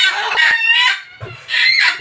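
Desi hens clucking close by in short bursts with a brief pause between, a busy poultry chatter with no talk.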